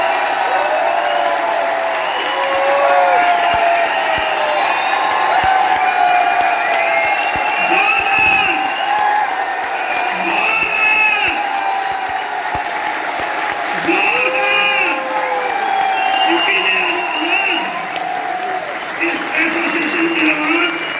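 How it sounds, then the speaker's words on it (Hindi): A large audience at a grand summit in Delhi bursts into loud, sustained applause with cheers and whoops, a dense roar of clapping that carries on for about twenty seconds while a voice keeps speaking over it. "दिल की गहराइयों से एक बार जोरदार तालियां मिस्टर हेम पांडे जी के लिए, जोरदार तालियां।"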